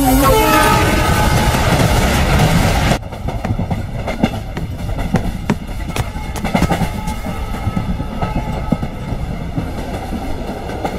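A passenger train runs along the track with a loud, steady rumble and rhythmic clatter of the wagons. A horn sounds briefly at the start, then the noise carries on evenly throughout.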